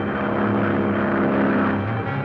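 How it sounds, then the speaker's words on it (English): A propeller ambulance plane flying in to land, its engine drone loud, close and steady throughout with no voices. "Nagel ambulance plane coming in on the beam."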